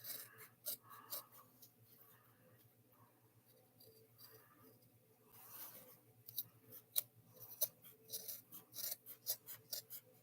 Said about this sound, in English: Just trim all the way around it.